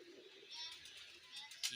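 Pigeons kept in pairs for sale coo softly and faintly in the background, a brief, low-level murmur with a slightly louder moment near the end.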